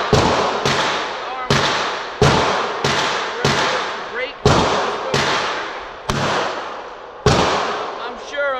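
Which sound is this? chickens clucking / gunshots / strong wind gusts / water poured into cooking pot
gunshots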